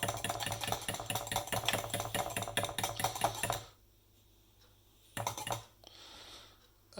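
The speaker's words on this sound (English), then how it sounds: "mix the eggs and the milk together." A utensil rapidly stirs eggs and milk together in a mug, giving quick rhythmic clinking and tapping for several seconds, then a pause and a short final burst of stirring.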